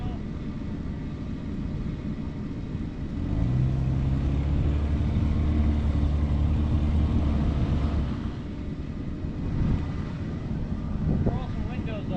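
A square-body truck stuck in a mud puddle, its engine droning and rising in a loud, steady revving rumble as it strains to pull through, with bystanders talking over it.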